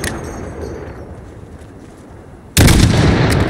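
A rifle shot fired at a distant target in Call of Duty: Modern Warfare rings out as a single loud, sharp crack near the end, following a quieter stretch of low ambient rumble.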